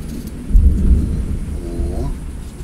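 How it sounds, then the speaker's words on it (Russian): Thunder at a country dacha plot: a deep, loud rumble rolls and swells, then slowly fades, with rain faintly in the background. "какой гром."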